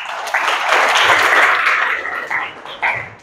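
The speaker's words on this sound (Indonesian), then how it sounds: "ya tepuk tangan untuk Ray" A crowd applauds loudly and steadily for a performer named Ray at a stage show, the clapping swelling quickly and holding dense before tapering off, with a brief renewed burst near the end.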